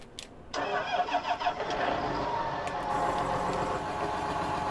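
An 8530 tractor engine in Farming Simulator 19 starts up: a short crank and catch, then it settles into a steady, close mid-pitched idle rumble that runs on alone with no talking.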